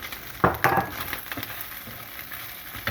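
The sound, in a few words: onions and bacon lardons sautéing in a pan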